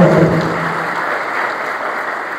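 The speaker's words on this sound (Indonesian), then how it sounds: "Beri tepuk tangan yang terbaik" A church congregation bursts into applause during a worship service, loud broadband clapping that fades gradually over a couple of seconds, with no voices on top.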